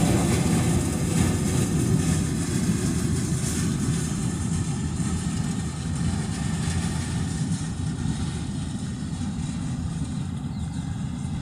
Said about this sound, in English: I'm gonna guess he's back taxiing back to the terminal.